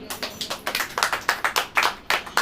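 An audience bursts into brisk, steady applause at a church sermon, many hands clapping close together in a dense, even patter throughout.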